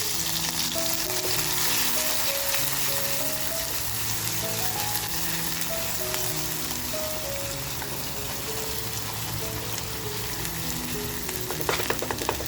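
Crushed ginger, garlic and green chili sizzle and crackle steadily in hot oil, a close, continuous frying hiss with a faint clink near the end.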